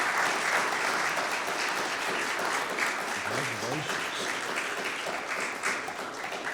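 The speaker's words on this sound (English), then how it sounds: "So let's give Janet a round of applause and come on up here." A room of people applauds to honor a woman named Janet at a county Walk of Fame ceremony, with thick continuous clapping throughout and a brief spoken word of congratulation heard over it.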